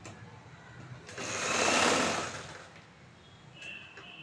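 Sewing machine stitching the bottom of a chudithar, a short close whirring run that swells and fades over a couple of seconds, with faint quiet before and a brief tap after.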